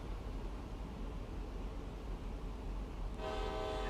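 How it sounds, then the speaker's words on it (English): CSX freight locomotive horn in Train Sim World on a coal route, a steady rumble of the moving train with the horn blast sounding near the end, loud and clear over the engine noise. "There's a whistle sign. I was just whistling to the truck."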